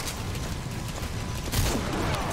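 Rapid gunfire from a firefight in the video game Metal Gear Solid V: The Phantom Pain, a dense, continuous crackle with a heavier burst near the end and no speech.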